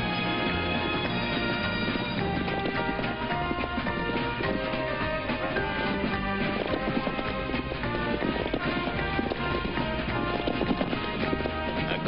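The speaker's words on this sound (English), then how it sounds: "But raring to go was Vibart, an exuberant high-kicking horse" Show jumping horse galloping at a 1968 competition, its hoofbeats running steadily beneath a continuous layer of music throughout.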